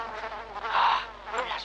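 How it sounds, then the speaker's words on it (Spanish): Flies buzzing in the survival horror game The Dark Internet, a close, wavering drone that swells and fades twice over a short stretch, with no voices. "Las moscas estropean todo. Las moscas hay cuando hay algo podrido."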